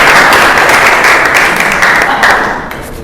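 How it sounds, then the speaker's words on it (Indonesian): Classroom applause from students after a biology lesson presentation on biodiversity, a dense steady clapping that holds for about two and a half seconds and then tapers off slightly near the end. "Aplaus dulu ya."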